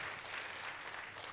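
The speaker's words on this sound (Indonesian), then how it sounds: "Tepuk tangannya boleh yang paling meriah buat Tuhan kita." A church congregation applauds, a steady dense wash of clapping that sounds soft and somewhat distant.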